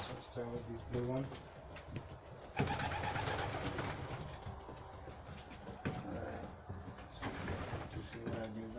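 Pigeons cooing while being handled for a Paramyxovirus vaccination, soft repeated coos up close amid rustling and handling noise, with a person talking over them in places.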